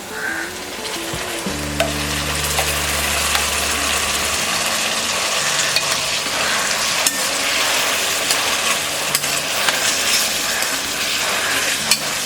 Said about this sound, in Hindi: कैरेट ग्रीन पीस अच्छी तरह से फ्राई हो गया है। इसमें हम डालेंगे ये कोरिएंडर पेस्ट